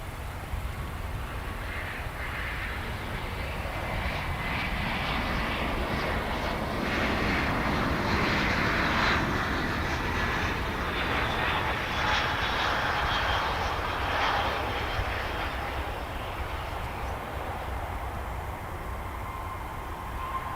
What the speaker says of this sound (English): I think this El Paso flight may be taking the long way here. But I kid. Here it comes.